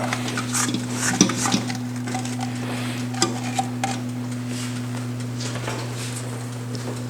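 An electric stand mixer runs steadily while creaming chocolate muffin batter, giving off a constant motor hum with light ticking and scraping of the beater against the bowl, and no talking.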